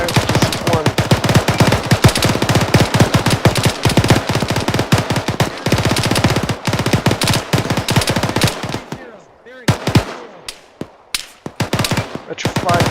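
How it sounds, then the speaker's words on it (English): Machine guns fire in long, loud, rapid bursts during a field training exercise with a heliborne assault, close and nearly continuous, then break into shorter separated volleys toward the end; faint voices may be underneath. "we are under fire from the north-northeast"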